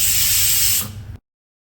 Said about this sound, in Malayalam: അപ്പോൾ ഇതിൻ്റെ ആവി താഴെ മൊത്തം പോയതിന് ശേഷം നമുക്കിത് തുറന്ന് നോക്കാം.